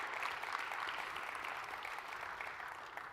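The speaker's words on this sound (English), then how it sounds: "Ladies and gentlemen, give a big round of applause to Mr. Corey Warner." Steady applause from a conference session audience, a dense wash of clapping hands at moderate loudness with no voices over it.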